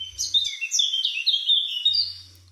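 Birds chirp and tweet in quick, bright bursts, several overlapping calls close by, with no talking.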